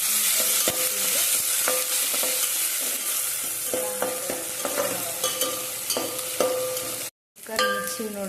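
A Karnataka-style tempering of cumin, mustard seeds, chilli and garlic fries in hot oil: a loud, close sizzle studded with rapid popping crackles from the seeds, briefly cut off near the end before resuming.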